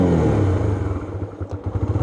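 Honda Twister CBX 250 naked motorcycle braking, the engine note dropping from a loud rumble to a lower idling putter as it slows, close by with some clatter.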